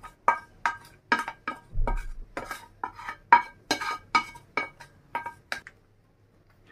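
Metal utensils scrape and clink against a pan while the last of the minced meat is spooned out, a quick irregular run of close taps and knocks with short pauses.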